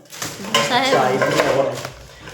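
A 10-litre pressure cooker and its lid being handled, with short metallic clanks and scrapes, while a person talks over the clatter.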